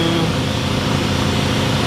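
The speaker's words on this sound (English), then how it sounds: "Engine is running." A BMW N63 engine idles as a dense, steady, loud mechanical hum, with no talk over it.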